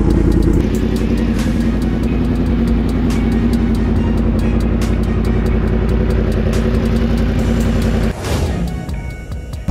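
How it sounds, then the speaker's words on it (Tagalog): A Yamaha MT-10 motorcycle roars loudly and close by, its exhaust revving hard and rising for several seconds. The engine then cuts sharply and settles back to a rougher idle near the end. "Grabe, dapat nagdala tayo ng earplug. Lakas ng tambucho."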